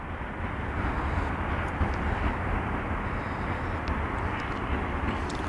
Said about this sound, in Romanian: Aterisează, băi, avionul.